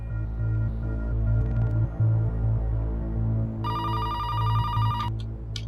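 Phone call to a doctor: an electronic telephone ring trills in a steady burst, then a brief second burst, over a low humming drone of background music.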